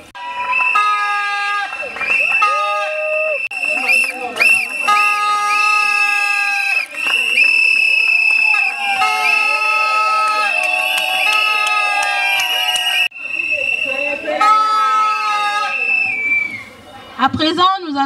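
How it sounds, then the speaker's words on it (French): Wedding guests cheer loudly to welcome the civil registrar at a Congolese ceremony, a sustained crowd roar with shouts and whistles, high excited voices and chanting layered over one another, dipping briefly before swelling again. "nous allons l'accueillir avec nos acclamations"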